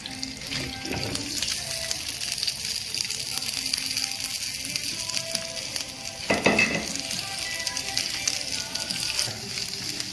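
Chopped onions sizzle and fry in a hot pan for a Mangalorean prawn curry, with a constant crackling hiss, occasional stirring scrapes and a brief watery splash midway.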